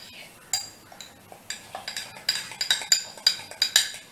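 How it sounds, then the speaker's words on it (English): Metal spoon clinking and scraping against a mug while stirring chocolate mug cake batter into a stiff paste, a rapid run of sharp taps that grows denser and louder toward the end, close up with no talk. "Stir it nice, and then it's like a nice chocolatey paste or something"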